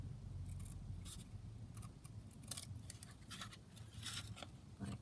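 Scissors cut out a word embellishment from an old book page, giving a quick series of light, crisp snips over a steady low background rumble.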